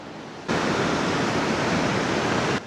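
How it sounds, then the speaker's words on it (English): Waterfall at Natural Bridge Falls with water upwelling just below, a steady broadband roar that starts abruptly and holds loud and even throughout. "there's a big upwelling of water right down below us here"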